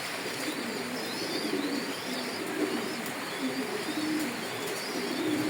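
Pigeons coo steadily in low, rolling calls amid constant background noise, with a few faint chirps from other birds.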